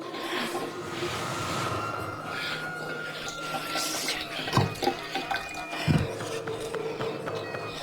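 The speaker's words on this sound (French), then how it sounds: "on voit toutes les portes d'armoire ouvertes et l'eau qui s'écoule du robinet" Water runs from a kitchen tap in a ransacked kitchen, a continuous rushing flow with a few louder splashy bursts and faint voice-like sounds in the background.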